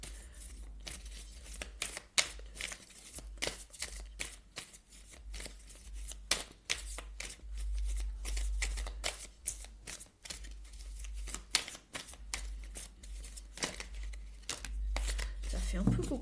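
Tarot cards are shuffled close up in a quiet room, a long run of quick papery riffles, flicks and soft slaps repeating irregularly with brief pauses, under a low steady hum.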